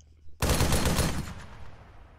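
A 12.7mm machine gun in the Arma 3 video game lets off one loud, sharp burst that rings out and trails off over about a second, with no talking.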